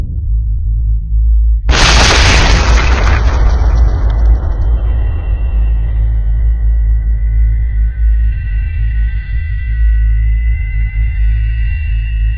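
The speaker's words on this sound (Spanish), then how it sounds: "estalló el cuarto reactor de la central, y unos segundos más tarde, una segunda explosión hizo volar por los aires la losa del reactor" A loud, sudden synthetic blast for the explosion of the fourth reactor at the Chernobyl nuclear plant bursts in, then decays into a long, deep rumble with a lingering high ringing tone, heard alone with no voices.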